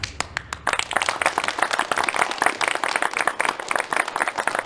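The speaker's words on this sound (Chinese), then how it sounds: "鼓掌！" A crowd of villagers at an outdoor gathering claps steadily, a close, busy patter of many hands that keeps going at an even level throughout.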